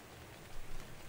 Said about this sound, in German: Und es regnet. Es regnet wieder.